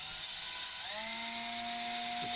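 A power drill whines steadily while boring into a delaminated camper floor, its pitch shifting and settling as the bit bites in, loud and continuous with no talk.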